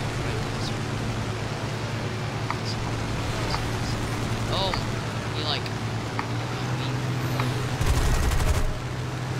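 Gunfire rattles against aircraft in a War Thunder arcade battle over a constant loud engine drone, with scattered shots and a heavier burst of fire near the end, while players talk over it.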